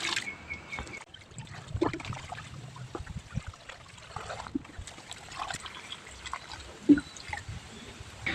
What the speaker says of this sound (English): now it's time to fill in the water, filling it fully